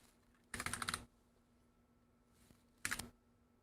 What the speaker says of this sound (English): Damn it! Stupid small keyboard.